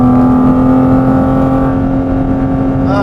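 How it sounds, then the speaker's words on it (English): Mid-engine Porsche Cayman GT4 RS on a downshift, a loud steady engine tone with a strong sustained pitch that eases off, then a sharp blip of rising revs at the very end, heard alone without talk. "The downshift, I mean, that never gets old."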